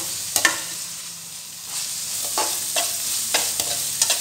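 Onions frying in a pan for lemon pepper chicken, a steady soft sizzle with several sharp scraping stirs of a spoon at intervals, close and alone with no talking.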